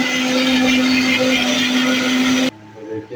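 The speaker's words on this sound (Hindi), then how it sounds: "इसमें अब गाइस इसको पहले पीस लेता हूँ" A mixer grinder whirs loudly and steadily while grinding green chillies and garlic for coconut chutney, a high motor whine running unbroken before cutting off abruptly, leaving a quieter tail.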